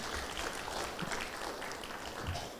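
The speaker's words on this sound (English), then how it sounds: "ladies and gentlemen, maybe we can have a big applause to Pak Yusing" A symposium audience at a sustainable building conference applauds a speaker, a soft, distant wash of steady clapping that stays even and fairly faint throughout.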